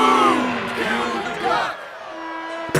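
Cartoon crowd cheering and hollering in a Looney Tunes sports game, a loud burst of mixed yells and whoops that fades after a moment, leaving a faint steady tone.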